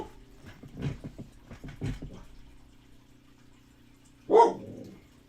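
A dog gives one short, sharp bark at close range indoors after a few quiet seconds of low background noise.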